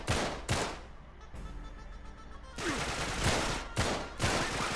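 Video game gunfire in Uncharted 3 rings out as sharp bursts of shots and rapid volleys, loud and close, broken by a short quieter stretch before more rapid firing resumes.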